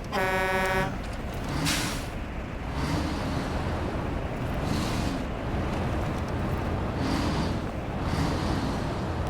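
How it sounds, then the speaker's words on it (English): Repeated truck air horn blasts in the SnowRunner game, several loud honks at a steady spacing over a constant engine rumble, with no talking. "Every time you hear that air horn, that's me panicking."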